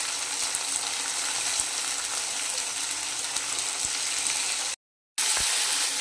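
Peas and potatoes fry in a pan with a steady, close hissing sizzle that continues throughout, broken only by a brief moment of silence near the end.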